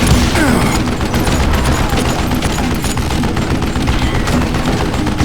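Continuous loud gunfire in the Western shooter video game Call of Juarez Gunslinger, a dense barrage of rapid shots and booms filling the whole stretch with no pause.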